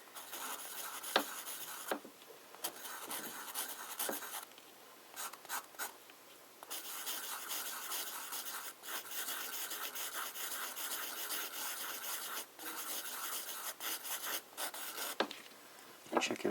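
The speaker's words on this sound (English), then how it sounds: "You hear this is a different grit, right? It's a much softer sound." Metal smoothed by hand with a finer abrasive grit gives a soft, even rubbing rasp in long strokes with brief pauses, close and fairly quiet, with no talk over it.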